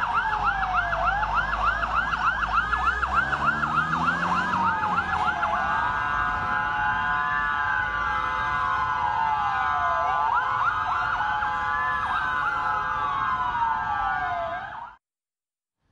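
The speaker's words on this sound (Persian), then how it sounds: "آژیر خودروهای امدادی در ریاض شنیده شد" Emergency vehicle sirens wail continuously in Riyadh, several overlapping tones sweeping up and down, fairly loud and sustained before cutting off abruptly at the end.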